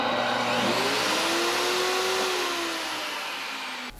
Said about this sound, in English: powering up the table saw and the vacuum at the same time